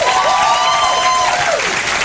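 A television talk show studio audience claps loudly and continuously, with a few whoops or raised voices rising over the sustained applause.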